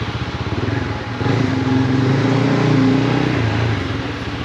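An Aveta VZR250 250cc motorcycle engine revs while being ridden, a loud close buzzing drone that climbs in pitch partway through as it pulls in second gear, then eases off near the end.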